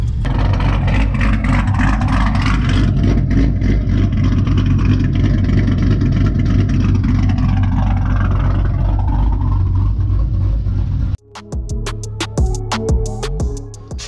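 A car engine runs loud and close, with a continuous throaty rumble and shifting revs, then cuts abruptly near the end to a quieter, choppier idle.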